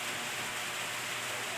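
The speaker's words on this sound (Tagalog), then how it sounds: "umuulan, sobrang lakas ng ulan" Heavy rain pouring down in a rural Ilocano farm setting, a dense, even hiss of falling water that stays constant throughout, moderately quiet and without distinct drops.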